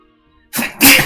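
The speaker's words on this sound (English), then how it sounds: "I feel like I'm gonna sneeze, guys." A single sharp sneeze, close and loud, with a quick intake then a burst, after a brief moment of near silence.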